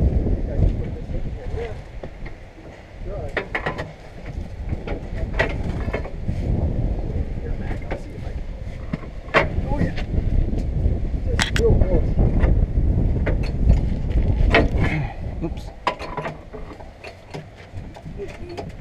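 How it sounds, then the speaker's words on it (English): Steady wind buffets the microphone with a low rumble throughout, while people talk faintly underneath. "So, it's windy."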